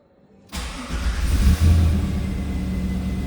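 A 1940 Ford Deluxe street rod convertible with a fuel-injected LS1 V8 fires up after a moment of quiet, catching abruptly and settling into a loud, steady, deep rumbling idle close by.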